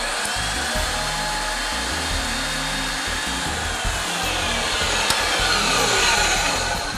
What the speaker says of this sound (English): After you cut, you need to ream the ID of the pipe.